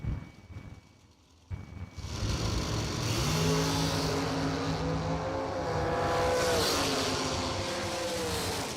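A dragster with upswept Borla mufflers fires up at a drag strip after a quiet start, then a loud, sustained engine howl builds and rises in pitch as it launches, close and dominant throughout.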